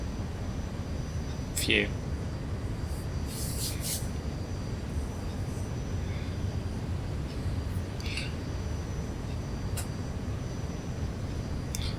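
In the X-Plane flight simulator, an airliner's engines give a steady broadband drone right after takeoff from a runway, continuous and moderately loud beneath someone talking.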